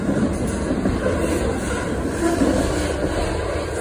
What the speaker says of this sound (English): And I think there's a DPU on this train.